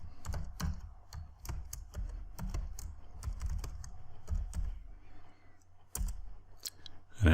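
Keys on a computer keyboard clatter in quick irregular bursts while a password is entered at a command window, soft and close, with a brief pause before a final few strokes.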